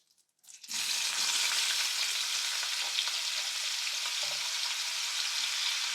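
Cut potatoes drop into hot oil with curry leaves for aloo bhujia, a sudden loud burst of dense, steady sizzling that starts after a brief quiet moment and continues evenly up close.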